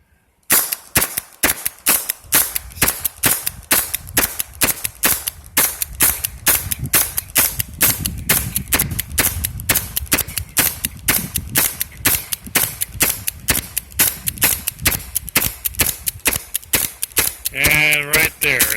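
An Umarex TR50 CO2 gun dry firing with no ammo loaded, giving a rapid, steady string of sharp, loud snaps that keeps going for many shots, close to the listener.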